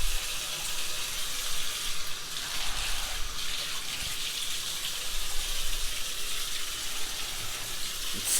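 Water runs steadily from a low-pressure hotel room tap into a sink, a continuous soft hiss and splash with no voices.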